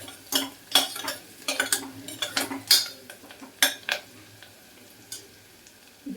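A spoon or spatula scrapes and knocks against a pan while curry leaves fry, producing a string of sharp, close clinks and scrapes over a faint sizzle.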